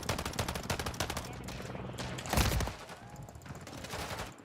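Rapid automatic gunfire in the video game Call of Duty Modern Warfare 3, dense bursts of shots followed by a heavy blast, then sporadic firing, loud and close with no voices over it.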